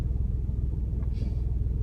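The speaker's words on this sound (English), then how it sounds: "yeah, it's still idling high" Chevrolet Blazer engine idling high, a steady close low rumble with an even throbbing pulse and no talk.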